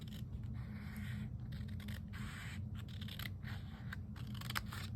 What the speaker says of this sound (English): I'm just gonna cut at an angle as straight as I can.